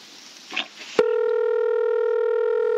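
Telephone dial tone heard while calling a 7-Eleven store: a brief soft rustle, then a steady, loud, unbroken tone that holds evenly to the end.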